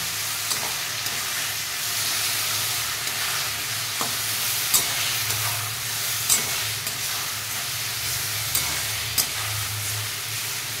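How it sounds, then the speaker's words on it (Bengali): Mixed vegetables with spices stir-frying in a home kitchen pan, a steady broadband sizzle with occasional soft scraping clicks of stirring, continuous and close, no voices. "তারপরে মশলা দিয়ে এটাকে আমি আস্তে আস্তে"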